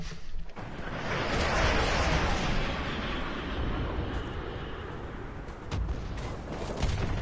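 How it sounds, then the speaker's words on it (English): Grenades thrown and exploding in a video game make a dense, roaring wall of blast and rumble that swells and holds for several seconds, loud and close, with no speech. "we're throwing grenades, apparently"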